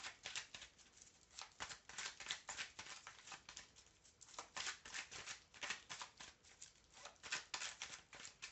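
Deck of playing cards being shuffled repeatedly, a quick papery riffling and flicking in bursts, close but faint, with no speech.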